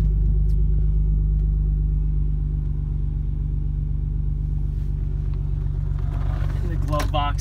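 A 1994 Toyota Supra twin turbo idles steadily with a deep low rumble, close and continuous, while a voice talks over it near the end.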